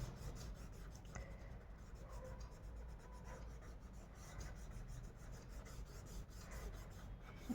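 Oil pastel lines being smudged on paper make a soft, steady rasping rub, faint and close, with repeated strokes continuing throughout.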